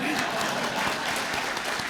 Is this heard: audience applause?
yes